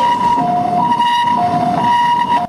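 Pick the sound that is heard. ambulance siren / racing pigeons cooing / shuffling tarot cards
ambulance siren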